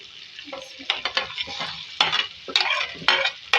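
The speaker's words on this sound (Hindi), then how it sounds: "अब इसी के साथ मैं इसमें आलू ऐड करूँगी जो मैंने फ्राई करके रखे हुए थे" Pre-fried potatoes tipped into tomato masala with green chillies, then stirred: a loud, close sizzle with repeated scraping spoon strokes against the pan, with no talk.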